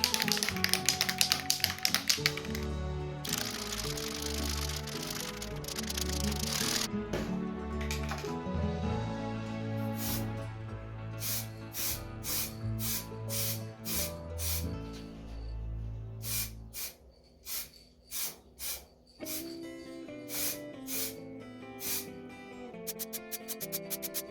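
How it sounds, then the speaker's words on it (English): An aerosol can of Sonoma Red paint is shaken hard for a Suzuki Let's 4 scooter mudguard repair, with the mixing ball rattling in rapid rhythmic clatters, close and loud, in repeated bursts. "I need to give that a really good shake"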